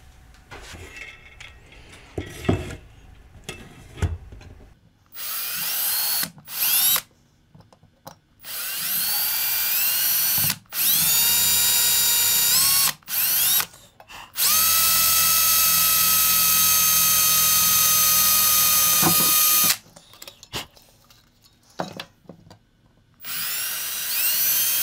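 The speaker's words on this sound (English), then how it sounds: "Get the hand drill." A hand drill whirs in several bursts of different lengths, some long and steady, others short, with brief pauses and small clinks between them.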